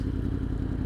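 A 2016 Yamaha R1 crossplane engine with an aftermarket exhaust burbles nearby in a brief, deep, lumpy idle pulse.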